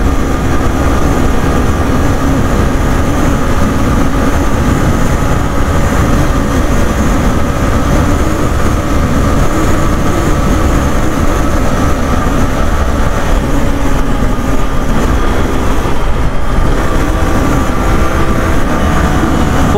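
A Hero Super Splendor BS6 motorcycle runs flat out in fifth gear, its engine droning loud and unbroken under heavy rushing wind noise for the whole stretch, with no voices.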